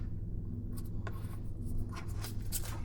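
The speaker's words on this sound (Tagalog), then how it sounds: "pwede na nating punitin yung cover na plastic. May gunting ako ditong iniready na" Scissors snip and tear a plastic cover wrap during the unboxing of a DJI Mini 5 Pro drone, giving close, crisp cutting and crinkling sounds over a low steady hum.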